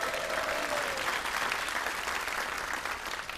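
A live audience claps steadily in a continuous, dense wash of applause that holds level for the whole few seconds before easing slightly at the end.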